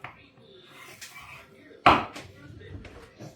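A knife works through a whole beef rump, trimming sinew and cutting a face cut for steaks, giving one firm knock on the board amid soft scraping and handling noises, with faint murmuring in the background.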